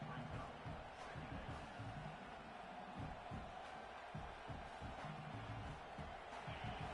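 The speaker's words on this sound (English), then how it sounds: "The roar of the crowd trying to fuel this defense to keep them pinned in their own end." Stadium crowd at an Ohio State versus Michigan football game keeps up a steady, distant, rumbling roar, with voices faintly mixed in beneath the noise.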